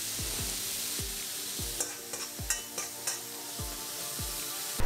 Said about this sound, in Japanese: 熱々になったところへ玉ねぎともやしを敷き詰めていきます。